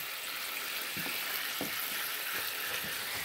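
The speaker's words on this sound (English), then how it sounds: "got a little bacon here going" Bacon fries in a Lodge cast iron skillet on an oak-fired wood stove, a steady close sizzle with occasional soft pops and faint stirring clicks, no talking.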